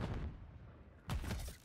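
Two booming gunshots from a competitive shooter video game, each a loud close blast with a short decaying tail, spaced about a second apart.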